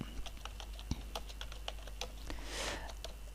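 Quick, light keystrokes patter on a computer keyboard, close and fairly quiet, with a brief burst of denser rattling near the end.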